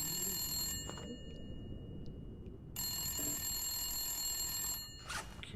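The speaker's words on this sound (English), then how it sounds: "Oh, it's that phone upstairs." In the video game The Long Dark, an old telephone rings upstairs: two long electric bell rings separated by a pause, heard at a moderate distance with faint ambient noise between them.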